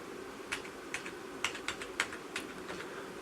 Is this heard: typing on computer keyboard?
yes